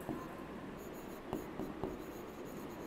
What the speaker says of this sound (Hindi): तो मैं इधर लिख देती हूँ